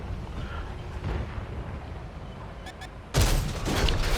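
Tank gun shot in World of Tanks bursts out as one loud, sudden blast after a low rumbling lull, leaving a rough roar trailing behind it.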